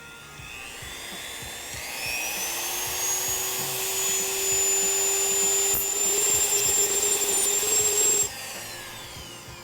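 Plastic nubs on a BMW GTS tail light being ground away, a steady close high-pitched grinding whine with broadband hiss that runs for about eight seconds and then cuts off.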